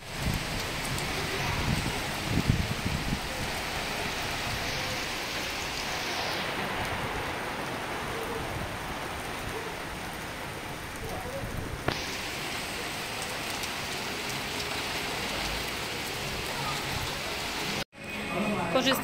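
Tropical rain pours during a storm on Phuket, Thailand, a dense steady hiss of rainfall on surfaces that continues unbroken for a long stretch, with faint voices mixed underneath.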